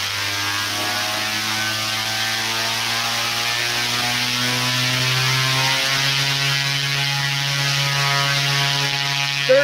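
An electric aircraft propulsion motor runs steadily at high power on a test bench, a loud continuous whine with layered harmonic tones that holds nearly constant throughout.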